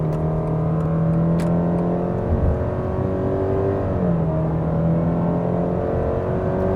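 A 2025 Subaru Legacy Premium accelerating under throttle, heard from the cabin as a steady engine drone whose pitch climbs, dips at a shift, then climbs again, with a smooth whir and no talk.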